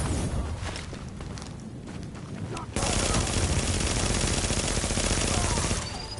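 Automatic gunfire in the video game The Division, a dense steady stream of rapid shots that gets louder halfway through and keeps hammering, with voices underneath.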